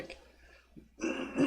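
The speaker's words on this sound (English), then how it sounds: "yeah, clear my throat." A man clears his throat in two short, rough bursts, close and fairly loud, following a quiet pause with faint shuffling.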